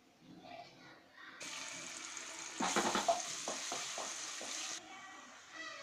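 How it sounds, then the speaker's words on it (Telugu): Ginger garlic paste dropped into hot oil bursts into a loud sizzle that spits and crackles for a few seconds, with spoon stirring taps, then settles back to a quieter hiss. "ఆయిల్ వేడెక్కిన తర్వాత 1 టీ స్పూన్ అల్లం వెల్లిపాయ పేస్ట్ వేసి వేయించుకోవాలి."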